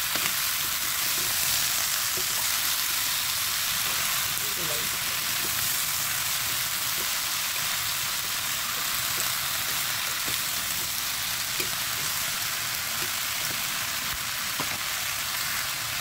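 Pinakbet vegetables with eggplant sizzle steadily in a pan while being stirred, a dense, continuous frying hiss with occasional faint clicks of the utensil, no talking.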